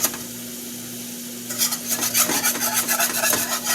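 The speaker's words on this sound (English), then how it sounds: "I'm not stirring it constantly. I'm just stirring it when I think it needs it." Honey garlic meatball sauce is stirred in a pan, heard as a scraping, rubbing swish that starts partway through with a rapid repeated texture over a low steady hum.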